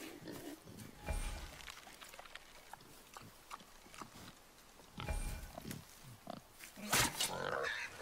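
A boar in the God of War video game snorts and grunts in short, rough bursts, with a few louder outbursts spread across the scene and quieter game voices and ambience underneath.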